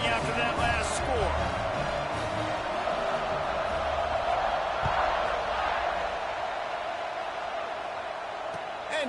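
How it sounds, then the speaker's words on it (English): A college football stadium crowd murmurs and buzzes after a touchdown, a broad, steady wash of voices with occasional shouts. Commentators talk over it throughout. "this crowd is buzzing after that last score"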